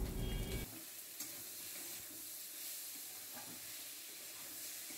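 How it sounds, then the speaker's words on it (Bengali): Salted onions, already turned translucent and pinkish, are stirred in a pan while preparing an eggplant and lote fish curry, giving a steady, quiet sizzle with a louder scrape of the utensil at the very start. "নুন দেওয়ার পর ভালো করে একটু নাড়াচাড়া করে নিয়ে"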